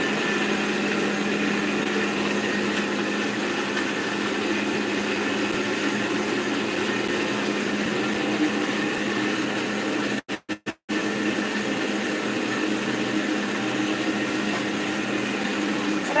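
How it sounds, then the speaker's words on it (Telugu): An Indian mixer grinder running in a home kitchen, a steady loud motor whine with a constant drone lasting throughout, briefly cut by a few quick stuttering gaps near the middle. "అదే అదే మిక్సీకి వేస్తున్నాడు ఇప్పుడు, మళ్ళీ మిక్సీ పెడతాడు గుయ్యి అంటది"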